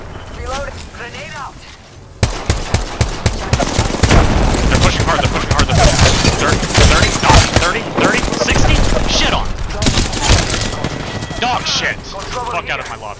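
Rapid automatic gunfire rattles in a video game shootout, sustained bursts layered with impacts and booms, loud and dense from just after the start, with a player talking over the action.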